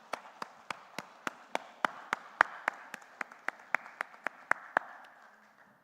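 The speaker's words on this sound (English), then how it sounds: "So can we have a loud applause for Mr. Shivansh?" Steady, evenly spaced claps ring out at an alumni meet, about four per second, loud and crisp, then fading slightly toward the end with no talking over them.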